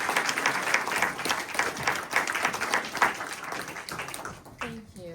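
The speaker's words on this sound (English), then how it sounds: "join me tonight in giving Sarah Molesworth a round of applause" An audience at an evening presentation for a library and community gives a sustained round of applause, dense and close. A voice begins speaking just as the clapping fades.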